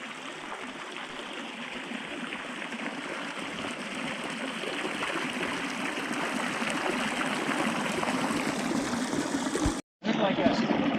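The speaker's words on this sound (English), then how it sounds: "waterfall down there" Water from a seeping spring spills over rock as a small waterfall into a stream by a chest-deep pool near Forty Mile Creek, a steady broadband rushing that swells slightly and continues after a brief cut near the end.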